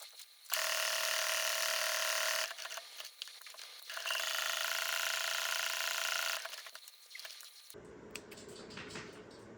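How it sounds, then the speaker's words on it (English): A sewing machine runs a straight stitch in two long steady buzzing bursts close by, pausing briefly in between, then stops and gives way to softer handling noises. "Now I'm going to take this to my sewing machine and stitch around the edge."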